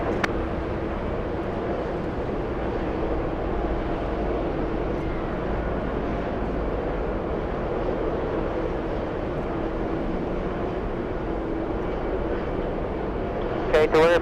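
A large airliner taking off from runway 31 Left at JFK airport produces a steady, far-off jet engine roar that holds at an even level throughout, with no voices over it.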